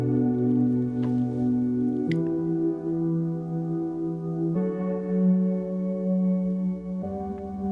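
A synth pad layered with a piano preset holds sustained, warm chords that shift about every two seconds, playing smoothly and evenly with no voices.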